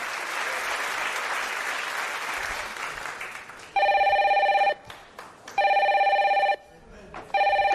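A telephone rings in the Secret Story reality-show house, three long bursts of electronic bell tones with short gaps, following a stretch of loud crowd cheering and applause.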